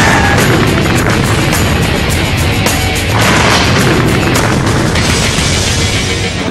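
A one-megaton underground nuclear test device, Milrow, detonated beneath an island, heard as a loud, continuous roaring rumble with dense broadband noise and no pauses across the whole stretch.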